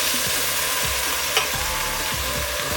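Modelo beer sizzles hard as it hits the hot bottom of a soup pot for pea soup, with a dense steady hiss and a few stirring scrapes, loud and close.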